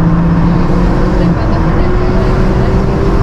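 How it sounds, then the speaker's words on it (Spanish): Ferrari SF90 with a 1000-horsepower V8 turbo hybrid engine running on a fast road, a steady, loud, droning engine note that stays close throughout while someone talks excitedly over it. "Vean el Ferrari, muchachos, vean el Ferrari. 1000 caballos de fuerza,"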